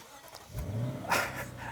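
A Lexus GSF's 5-litre V8 cranks and fires into a low, rumbling idle, a short starter whirr followed by a deep throaty burst that settles, fairly close and moderately loud.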